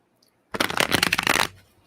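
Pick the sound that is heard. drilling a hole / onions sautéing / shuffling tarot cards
shuffling tarot cards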